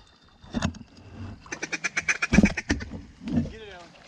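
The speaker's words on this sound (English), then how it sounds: "Are you sure those are wood ducks?" Wood ducks call in a rapid run of short, squeaky quacks on the water during a duck hunt, loud and close, with voices talking around them.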